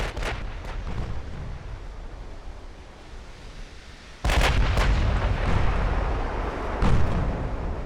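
Heavy naval gunfire in the Ultimate Admiral: Dreadnoughts battle at Second Trafalgar, with several deep booming salvos and a loud close impact midway, followed by continued rumbling blasts.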